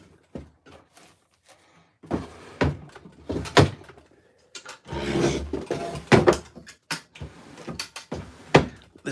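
Wooden drawers in a small bunker slid open and shut, a series of close, sharp thunks and knocks with scraping rustles between them, loud and uneven in rhythm with no talk over them.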